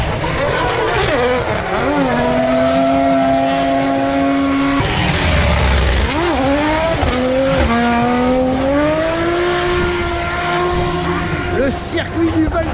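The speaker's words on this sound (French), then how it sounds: "On est sur la finale du championnat de France de drift, sur mes terres, voilà, sur le circuit du Val de Vienne" Drift cars at the French drift championship final at the Circuit du Val de Vienne, with loud engines revving and rising in pitch and tires squealing, while someone talks over them.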